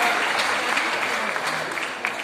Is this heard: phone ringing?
no